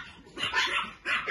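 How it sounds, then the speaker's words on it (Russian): Small dogs barking at a cat indoors, a pair of close, high-pitched yips and barks in quick succession, with no talking. "Что на кошку лаем?"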